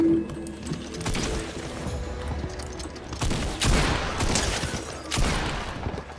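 Repeated gunfire bursts in a firefight within the video game Fortnite, dense crackling volleys rising and falling over about six seconds with some louder close shots near the middle and end.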